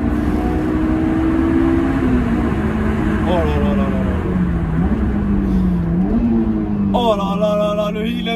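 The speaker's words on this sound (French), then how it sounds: "Et là, d'un coup, vous l'entendez. Rupteur!" Honda S2000 engine drones steadily at high revs inside the car, the pitch rising and shifting before a sharper climb near the end, under continuous talk.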